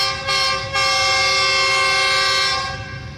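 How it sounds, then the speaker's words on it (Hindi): Jaffar Express led by a GU20 locomotive passing a railway station, sounding a loud, sustained multi-tone horn blast nearby after two short toots, then fading slightly. "डाउन जाफर एक्सप्रेस को लीड कर रहा है GU20।"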